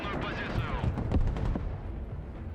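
A rocket barrage with gunfire in the war game Broken Arrow: dense rumbling launches and distant booms mixed with crackling shots, rolling continuously and fading toward the end.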